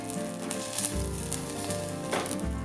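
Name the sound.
butter heating and foaming in a small saucepan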